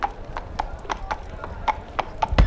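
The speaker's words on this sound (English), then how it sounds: "he's riding a horse around the bar." A horse ridden around inside a bar, hooves clip-clopping in a steady, evenly spaced rhythm at close range, with faint background murmur underneath.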